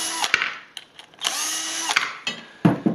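A power drill takes screws out of a fish finder mount clamp, giving several short, close whirring bursts of varying length, with a longer steady run in the middle and brief pauses between.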